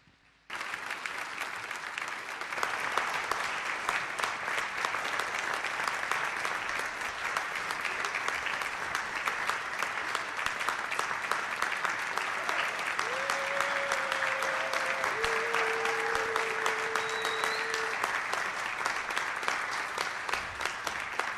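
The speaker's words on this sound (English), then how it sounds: "let's have our cast back out here and give them one round of applause" Audience applause for the cast at the end of a murder-mystery dinner theatre show, a dense sustained round of clapping that starts abruptly and continues steadily for about twenty seconds.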